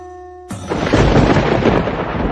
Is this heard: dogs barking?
no